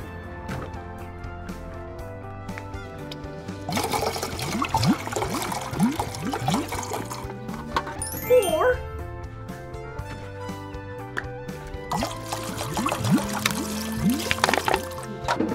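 Water poured into a container for a kids' sink-or-float test, a splashing, trickling pour heard over a bright backing music track, rising in bursts and fading between.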